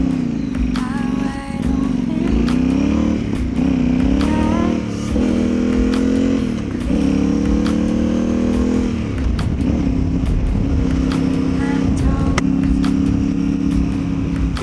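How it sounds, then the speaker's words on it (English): A Yamaha Tenere 700 motorcycle's exhaust while riding, the engine note rising and falling through gear changes, loud and close throughout with steady wind and road noise. "Yeah, I love the way that exhaust sounds."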